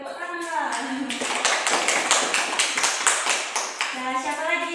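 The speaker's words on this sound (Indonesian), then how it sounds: "Tepuk tangan." A group of children clap their hands together in a classroom, a brisk run of about a dozen sharp, evenly spaced claps, with voices chanting along before and after.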